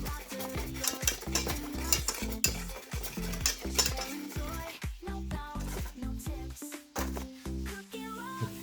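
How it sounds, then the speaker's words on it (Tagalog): A spoon stirs a dry breading mix of flour, cornstarch, baking powder, ground pepper, garlic powder and salt in a bowl, with rapid repeated scraping and clinking strokes, close and fairly loud. "Ito, harina, cornstarch, baking powder, pamintang durog, garlic powder, asin. Yan, imimix lang natin yan mga Pinas."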